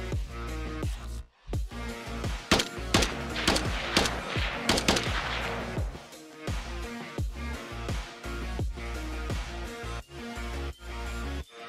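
Rapid weapon fire from an Unreal Engine first-person shooter game, loud bursts of shots and automatic fire repeating steadily throughout with brief gaps, no talking.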